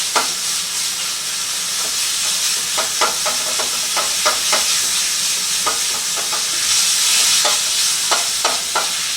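Pork sausage out of its casings browns in a pan with a steady hissing sizzle, broken by frequent clacking stirs and scrapes at an uneven rhythm. The sound is close and there is no talk.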